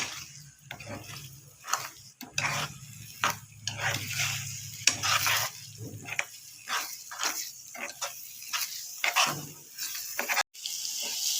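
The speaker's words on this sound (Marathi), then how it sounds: "मस्त परतून घ्यायची" Spicy egg chutney sizzles in a pan while it is stirred and scraped in uneven strokes, close and fairly loud with short pauses between bursts of sizzling.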